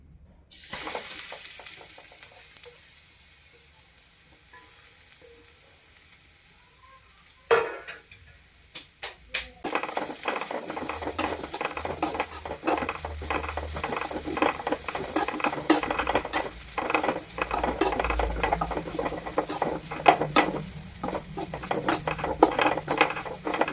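Grated coconut roasting in oil in a pan for a raw papaya curry gives a steady close sizzle with frequent scraping stirs, starting after a quieter stretch with a couple of clanks.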